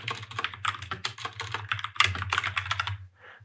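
Rapid clattering keystrokes on a computer keyboard entering code, a dense burst of clicks that pauses briefly near the end, close and fairly quiet over a low steady hum.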